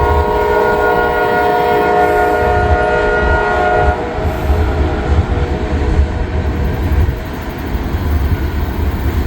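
An Amtrak train at the station in Ashland sounds a loud sustained multi-tone horn for about four seconds, followed by rumbling rail noise and wheel clatter close by.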